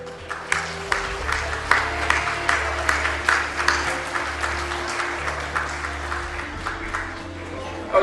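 Audience at a youth art exhibition applauding the teachers, steady moderately loud clapping throughout with a low hum of the room beneath it.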